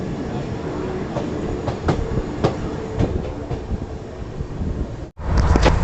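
Swarna Jayanti Express rolling steadily along the rails, a continuous rumbling roar with periodic clickety-clack joint knocks, heard from on board, briefly dropping out near the end before resuming loudly.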